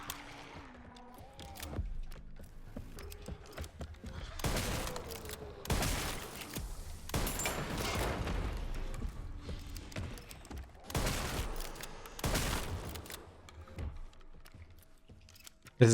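Heavy shotgun blasts in Resident Evil Requiem, four or five loud booming shots spaced a second or two apart over a busy backdrop of game effects and mechanical clatter.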